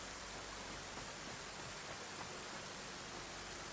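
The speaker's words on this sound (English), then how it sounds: "The rain sound could be a little more aggressive." Steady, even rain hiss as a weather effect in the video game Satisfactory, faint and constant throughout, with no talking.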